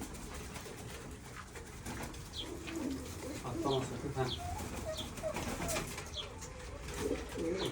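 Omski pigeons, a fancy breed kept in a loft, coo in soft repeated calls, with other birds audible nearby and a man's brief spoken remarks over them.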